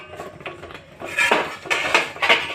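A cooking pot is lifted off a gas stove in a home kitchen, giving a few clattering metal knocks and scrapes that grow louder in the second half, close by with no talk.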